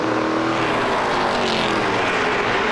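A Chevrolet-built NASCAR Pinty's Series stock car engine accelerates out of a banked corner at the Bumper to Bumper 300, a loud, sustained roar close by with no commentary over it.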